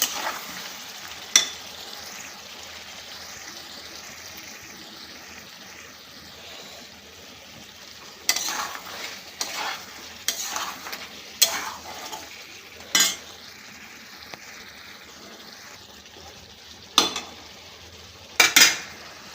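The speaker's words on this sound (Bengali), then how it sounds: "এর মধ্যে পটলগুলো দিয়ে দিব দিয়ে ভালো করে কষায় নেব" Pointed gourd and beef stir-fried in a pan give a soft steady sizzle, broken by sharp intermittent scrapes and clinks of a spatula against the metal, close and alone without talk.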